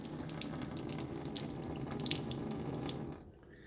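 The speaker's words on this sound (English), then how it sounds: "now acidic water is coming there to clean the plates inside and clean the pipes" Acidic water runs steadily from a Rio alkaline water ionizer with nine titanium plates during its reverse-current cleaning cycle, a continuous close tap-like flow that cuts off near the end, leaving quiet.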